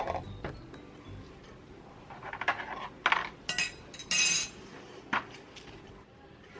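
Fermented sticky rice (khao mak) being packed by hand into small cups, with soft clinks, taps and rustling of the containers in uneven bursts, fairly quiet and close.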